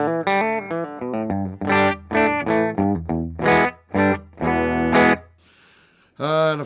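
Yamaha Pacifica electric guitar played through an NKM Dynamic Drive overdrive pedal into a Marshall amp setting with a 1x12 cab, dry with no reverb: a run of distorted picked notes and chords, loud and close, with a short pause before a final ringing chord.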